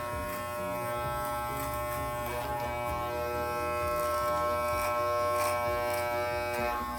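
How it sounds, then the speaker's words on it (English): A continuous close electric buzz from hair clippers trimming a beard and mustache, the motor hum holding steady with brief brighter swells as the blade corners bite into hair. "You're using the corners of the blade to do the mustache until you hear the machine cutting hair"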